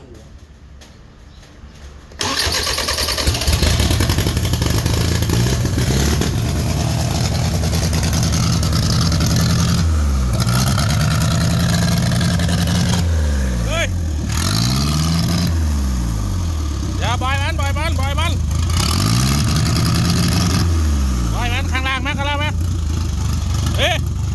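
A motorcycle engine revving by itself and refusing to shut off: after a quiet start it roars loudly and steadily, with repeated rising and falling rev swells, while people talk over it close by.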